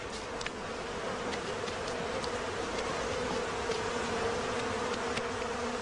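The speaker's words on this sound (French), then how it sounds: "les abeilles n'opposent aucune résistance quand, sans ménagement, les pompiers entreprennent de les transvaser dans une boîte" A swarm of bees being poured into a box by firefighters gives a dense, steady buzzing drone, close and unbroken, with no voices.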